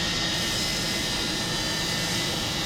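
Avro Vulcan XL426 jet bomber on a high-speed taxi run, engines producing a loud, dense, unbroken roar with a hissing, whistling edge, steady throughout and heard alone.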